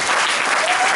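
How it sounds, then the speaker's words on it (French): Church congregation applauding and cheering at a Pentecostal-style service, a dense, steady wash of clapping that fills the short moment at full loudness without a break. "Donnons une acclamation."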